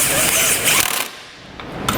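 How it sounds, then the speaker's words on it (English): Ratchet snugging down trailer hitch receiver fasteners, a close burst of rapid clicking and mechanical whir that pauses briefly before a short resumption. "we'll start snugging down our fasteners"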